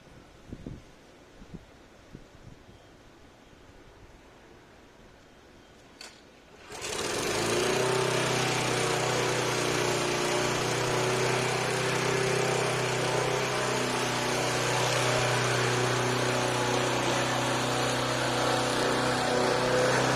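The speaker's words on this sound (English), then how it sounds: "it's time to mow my grass" A lawn mower starts abruptly after a few seconds of quiet and then runs loud and steady while mowing grass, its droning engine holding close and constant to the end.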